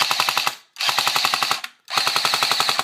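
Echo1 PKM airsoft machine gun with an upgraded piston firing three loud, rapid full-auto bursts with sharp mechanical clacks, separated by brief pauses, with no talking.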